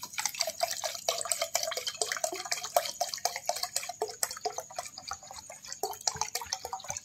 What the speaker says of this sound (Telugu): తర్వాత నేనైతే ఇప్పుడు వాటర్ అయితే పోస్తానా.